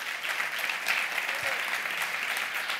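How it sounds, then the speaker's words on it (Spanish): Warm audience applause at an awards event, a dense, steady wash of many hands clapping at close range for about three seconds, with no talking over it. "mereix un fort aplaudiment."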